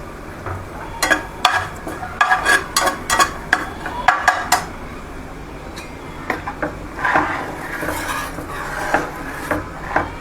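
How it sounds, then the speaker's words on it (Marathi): Samak rice kheer stirred in a pot, with a spoon clattering and scraping against the metal in irregular bursts of sharp knocks, close and fairly loud. "जास्त खडखड आवाज येत असेल तर ते पण सांगा"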